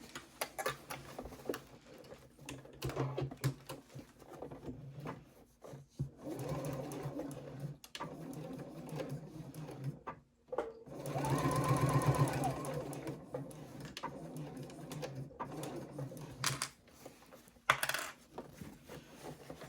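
A sewing machine stitches a fabric triangle pouch in several bursts, running along a seam and then backstitching, with a louder steady run in the middle, soft clicks between stretches, and quiet talk at times.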